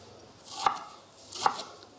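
Two crisp knife strokes cut stacked carrot rounds into julienne strips and tap the board, evenly spaced and close, with nothing else heard.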